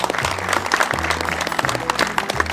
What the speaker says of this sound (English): Round of applause for the anglers.